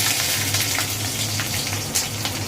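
Green chillies and cumin seeds sizzling in hot oil in a pan, giving a loud, close, steady crackling hiss with no pauses.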